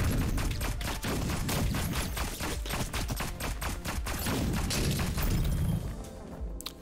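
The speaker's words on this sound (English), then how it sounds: "Oh, he just chucks grenades everywhere." Grenade explosions in the game Neon Abyss go off in a loud, continuous barrage of booms and crashes for several seconds before thinning out and fading near the end.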